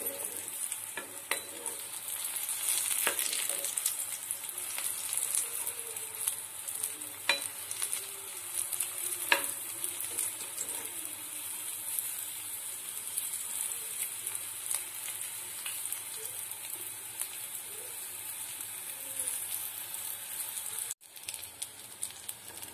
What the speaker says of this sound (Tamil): மீடியம் ஃபிளேம் வச்சு ஃப்ரை பண்ணி எடுத்துக்கோங்க